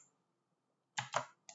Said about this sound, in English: and click submit